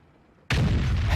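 A single tank gun shot in the World of Tanks video game: after brief near-silence, a sudden loud boom erupts and rumbles on through the rest of the moment.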